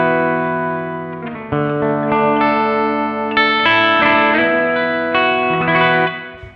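A Schecter Banshee Elite 7 seven-string electric guitar plays clean through the bridge pickup with a little amp reverb, sounding a series of bright, ringing sustained notes and chords, loud and close, with no talking.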